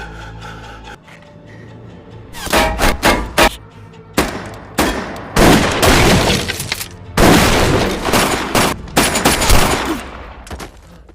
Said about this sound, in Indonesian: melihat Jun-suk tertembak